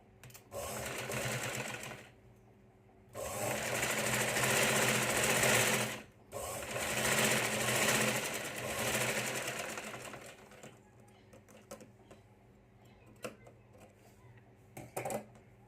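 A sewing machine stitches a folded fabric book strip in loud, steady bursts of rapid needle clatter, pausing briefly between runs, then quieter handling clicks toward the end.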